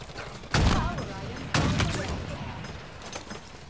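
Gunfire in the Halo video game, two loud single shots about a second apart with long ringing tails, followed by a fainter third, while a voice talks over it.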